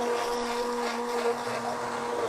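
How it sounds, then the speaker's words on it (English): A stick blender whirs continuously through a coconut mixture, a steady, fairly loud motor drone with a constant pitch and no pauses. "you can do it in a blender or use the stick blender"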